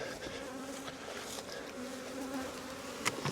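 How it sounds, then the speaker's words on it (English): Honeybees swarm and buzz around an open hive during an inspection, a dense steady drone of many wings filling the space, close and continuous with no voices. "there's loads of bees"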